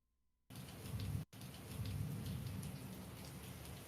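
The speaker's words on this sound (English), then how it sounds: "you can hear it, like it's coming down hard" Heavy rain as a sound effect, a dense loud downpour hissing steadily after a quiet start, with a brief dropout before the torrent resumes with a deep rumbling undertone.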